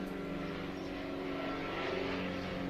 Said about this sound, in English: Some sort of a little Piper Cub or something like that.